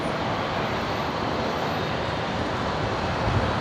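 Virgin 966 airliner taking off from Brisbane runway 01 right, a broad steady jet engine roar, loud and sustained with a slight swell near the end, no voices over it.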